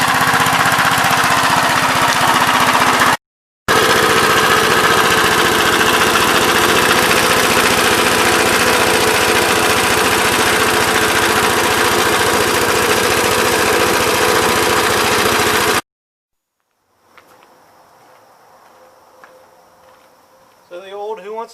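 A 1957 Gravely SR walk-behind tractor engine, running with light smoke, drones loudly and steadily at close range with a buzzing, rattling tone, cut briefly twice, then a quieter distant stretch with faint mechanical sounds before it swells again.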